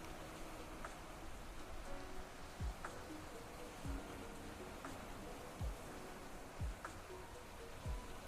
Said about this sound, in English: Is the rain bothering you at all?